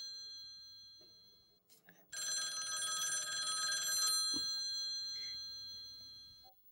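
A telephone bell rings indoors, a bright continuous trilling ring that holds for about two seconds and then gives way to a sustained tone, with brief bits of talk nearby.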